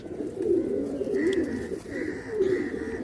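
Pigeons coo steadily in a pigeon loft, a low rolling murmur of several birds close by, with a faint higher tone running through the middle and no clear talk.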